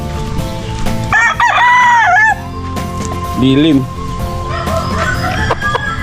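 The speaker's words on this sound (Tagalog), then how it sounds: "ito po yung manok kong napakatapang" A rooster crows loudly nearby, followed by shorter clucks and another brief crow, over a steady background hum and a few spoken words.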